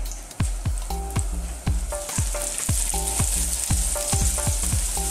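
Garlic fries in hot oil in a pot, a continuous crackling sizzle close by, with repeated sharp ticks and clinks from a utensil against the pot throughout.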